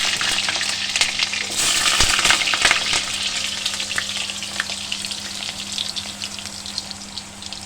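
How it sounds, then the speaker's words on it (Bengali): Potatoes fry in hot oil in a pan, a dense, steady sizzle with crackling pops and occasional stirring, close and continuous with no talk. "তেলটা মোটামুটি গরম হয়ে গেছে এবার আমি আলুগুলো দিয়ে"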